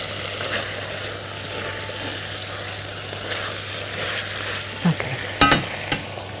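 Rosemary chicken sautés and sizzles in a pan, a soft steady frying hiss with brief stirring clatters near the end, no talking.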